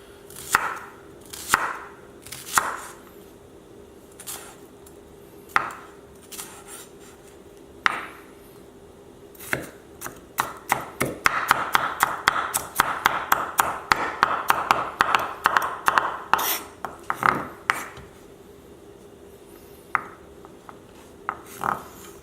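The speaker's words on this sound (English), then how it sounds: "Now we go to shallots. And we mince these." A knife mincing shallots on a cutting board: scattered single chops at first, then a fast run of dense, rhythmic taps in the middle, slowing back to sparse knocks, close and clear with no talk.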